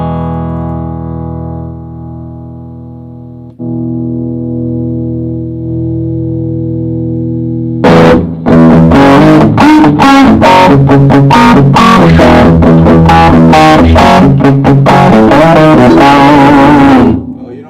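An electric guitar plays through a Fender Champion 100 amp, starting with a long sustained chord fading out, then loud overdriven, effects-laden strumming and riffs.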